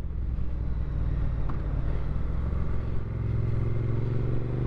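A 2021 Triumph Street Twin motorcycle engine revs up as the throttle is opened, a loud, close, steady rising drone that builds and holds over several seconds with no talking.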